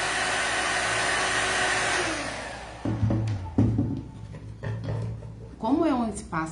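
A hair dryer blows steadily and close while paint on MDF dries, a whooshing hum that fades out midway, followed by someone talking with light handling noises.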